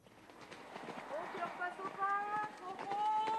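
Icelandic horses moving at an official competition, soft rhythmic hoofbeats at a steady gait with a continuous crowd or commentary murmur and tonal background sounds over them.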